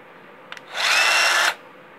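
A Berner circular saw spins up with a loud whine, runs for under a second, then brakes quickly to silence after a couple of faint clicks.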